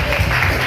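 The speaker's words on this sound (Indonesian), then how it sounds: "Tepuk tangan." Audience applause at a student presidential and vice-presidential candidate debate, a steady dense patter of clapping filling the short moment with no voice over it.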